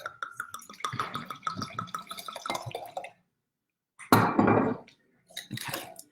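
Cabernet Sauvignon wine is poured into a glass at a home tasting: light drips and clinks come first, then a short, louder gurgling pour and a brief trickle.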